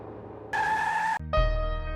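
A car brakes hard on a street in a Hindi TV drama scene, with a loud, sustained tire squeal that cuts off sharply before a heavy low rumble.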